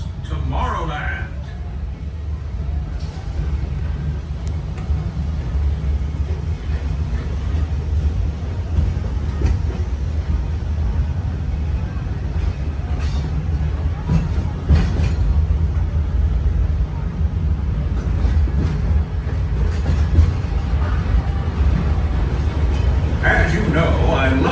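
A steam-style Walt Disney World Railroad train rolls through the Magic Kingdom in shuttle mode, giving a steady low rumble throughout with occasional clanks and rattles, and a narrator's voice speaks over the ride.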